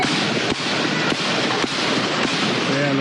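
Dense, loud crackling noise with several sharp pops at irregular intervals, like gunshots rattling through a steady roar, during a riot at a prison in Esmeraldas, Ecuador.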